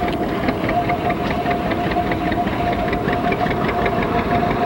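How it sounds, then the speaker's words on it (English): A 1957 John Deere 620 tractor engine runs steadily at a vintage threshermen's show, its rapid knocking beat continuous and fairly loud throughout, with a faint steady hum over the outdoor noise. "1957 620 John Deere, owned by Phil Roberts of Albert City, and he got Dad out today to drive it"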